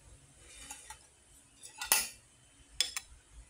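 A metal spoon is lifted and handled beside dishes, producing a few sharp close clinks and taps against a quiet background, with no voices.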